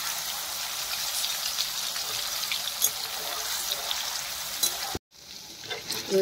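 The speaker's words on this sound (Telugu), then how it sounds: "ఇట్లా ఫ్రై కావాలి మంచిగా. ఇట్లా ఫ్రై అయితే మంచిగా ఉంటాయి." Cubes of paneer fry in hot oil with a steady, dense crackling sizzle that runs unbroken for about five seconds, cuts off abruptly, then resumes more quietly.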